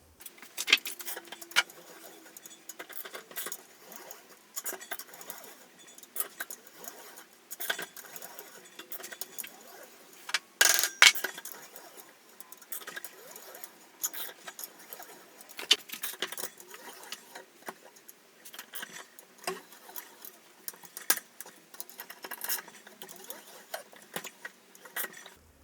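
A hand-cranked roller bender working a strip of 25 by 3 mm mild steel, giving irregular metallic clicks, clanks and creaks close by, with occasional louder knocks over a quiet background.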